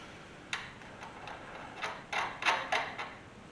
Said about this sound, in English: we'll go ahead and take this nut off this upper ball joint